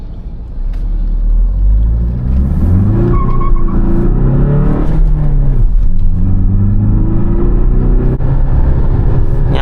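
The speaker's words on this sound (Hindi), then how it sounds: "इसको स्पोर्ट्स मोड पे उठा रहे हैं, देखते हैं व्हील स्पिन कितना है यहाँ पे।" A Tata Harrier Dark Edition SUV accelerates hard in sports mode, its engine note loud and close, climbing through gear changes with a rumbling roar and some tyre noise.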